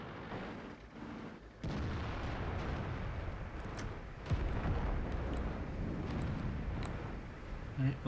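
Tank cannon fire and explosions in the World of Tanks online game, sudden heavy booms followed by sustained rumbling battle noise, fairly loud and close.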